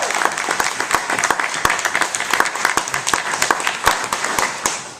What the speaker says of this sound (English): I am so glad that everybody's clapping their hands.